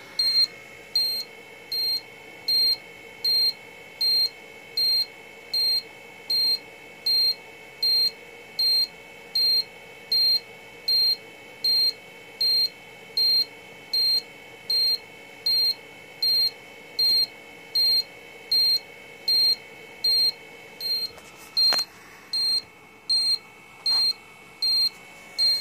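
Rapid, steady electronic beeping from a FrSky Taranis radio transmitter sounding its low-battery telemetry alarm, a regular high-pitched pulse repeating throughout at close range, with a couple of brief clicks near the end.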